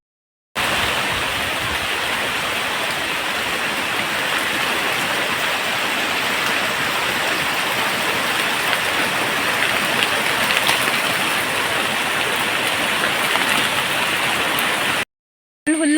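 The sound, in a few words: heavy rain falling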